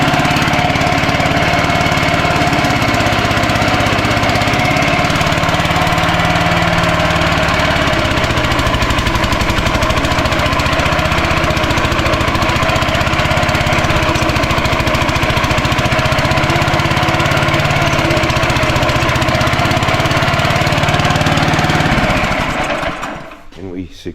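Engine of a Lull telehandler forklift running loud and steady close by, a continuous rough mechanical drone with a knocking quality that cuts off near the end.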